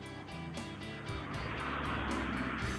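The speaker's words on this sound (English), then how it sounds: "And then there's probably one car." A single car drives past on a road in the morning. A steady mid-loud engine and tyre rumble rises and swells toward the end, with faint repeating ticks above it and no talking.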